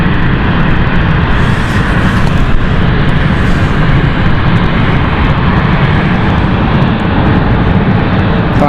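Airliner engines at London City Airport as the plane swings through a 180-degree turn on its stand under a marshaller's guidance, a loud, close, unbroken roar that stays heavy and constant throughout.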